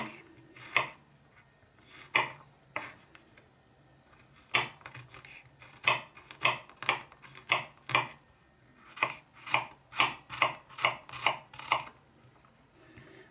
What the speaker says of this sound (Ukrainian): Чесник ми ріжемо теж на тоненькі пластиночки.